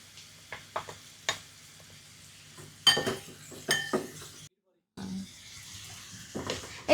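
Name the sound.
prawns frying with garlic in butter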